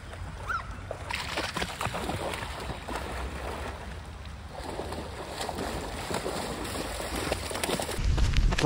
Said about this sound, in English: It's actually a river running over the track.